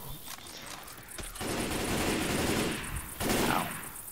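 Rapid automatic gunfire in Left 4 Dead 2 fills the moment with dense, continuous crackling bursts, loud and close, swelling twice in intensity over a few seconds.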